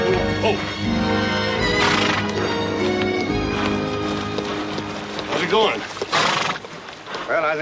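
Horses neigh and whinny loudly and repeatedly amid busy hoof and movement noise, with voices mixed in.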